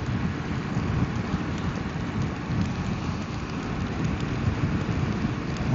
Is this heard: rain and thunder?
yes